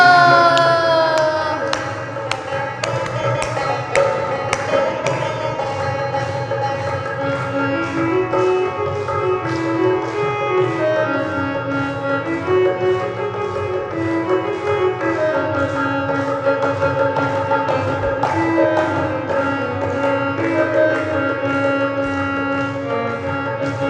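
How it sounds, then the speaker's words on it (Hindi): During a Hindu religious discourse on the Bhagavat, an audience claps in steady rhythm along with devotional music, and the sustained clapping runs under the tune throughout. "ताली बजाते हुए"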